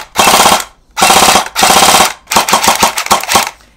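An airsoft AK rifle fires full auto in loud, close bursts: three long rapid strings, then a choppier stuttering run of shots at the end.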